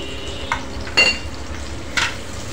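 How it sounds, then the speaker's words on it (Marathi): Onion sautéing in oil and butter in a pan for Italian macaroni pasta, a steady soft sizzle with a couple of brief scraping stirs, close and alone without talk. "आता आपल्याला कांदा थोडासा परतवायचा आहे।"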